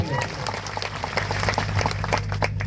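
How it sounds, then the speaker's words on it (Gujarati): Crowd at an outdoor tribal community political rally in Tilakvada, Narmada, claps together in a dense, rapid patter that holds steady for a few seconds, fairly close and loud. "એમના માટે પણ જોરદાર તાળીઓ પાડો"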